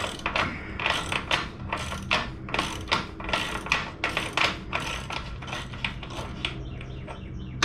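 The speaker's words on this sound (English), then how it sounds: "Then you have this socket right here, which is a 36mm. Loosen this up." A 36mm socket on a ratchet loosening a motorcycle rear axle nut, making loud, close bursts of rapid clicking in a steady repeated rhythm, with no voices.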